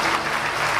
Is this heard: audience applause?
yes